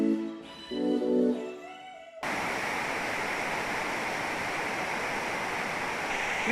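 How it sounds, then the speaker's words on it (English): River rushing through a canyon on a gold mining claim, a steady, full roar of flowing water that starts suddenly after a few seconds of brief meow-like tonal sounds. "the river is just so gorgeous through the canyon"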